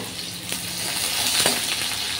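Chopped onion frying in hot oil with panch phoron for a curd-and-pointed-gourd curry, giving a steady close sizzle with a few light spatters and stirring scrapes.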